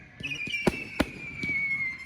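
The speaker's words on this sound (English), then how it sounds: "I'm scared of fireworks." Fourth of July fireworks in Madison, Wisconsin: a few sharp bangs and crackles, with a shrill whistle streaking through, at moderate distance.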